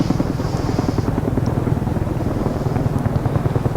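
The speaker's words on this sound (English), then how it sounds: "So this is a big, heavy helicopter." CH-47 Chinook heavy tandem-rotor helicopter in DCS World gives a steady, rhythmic rotor thump with a constant engine whine, moderately loud and close, with no talk over it.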